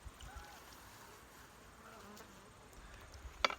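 A honeybee buzzes faintly nearby at a hive, its drone drifting in and out over quiet outdoor air, with a short sharp tick near the end.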